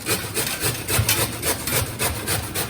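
Bottle gourd (lauki) is rubbed against a hand grater in steady back-and-forth strokes, a close, rough scraping rhythm that repeats about three times a second with no voices.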